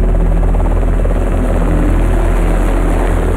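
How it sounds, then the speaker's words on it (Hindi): A helicopter thunders loud and steady overhead above the flooded Kashmir valley, its rotor chop and engine drone forming an unbroken dense rumble with no voices. "हवाओं में अब हेलीकॉप्टर की गड़गड़ाहट है।"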